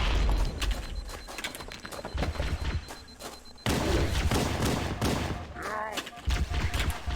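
Rapid gunfire bursts and booms from Halo: Combat Evolved on Legendary difficulty, dense volleys of shots with a brief lull midway, loud and close, with a voice mixed in.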